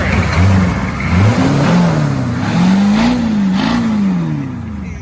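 A vehicle engine revs loudly and up close, its pitch climbing and falling through several repeated throttle blips, with no talk over it.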